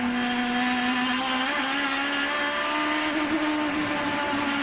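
IndyCar race cars at the 2011 Honda Indy Grand Prix of Alabama, a tight pack of five running close together, produce a steady, loud high-pitched engine whine that shifts slightly in pitch, with no talk over it.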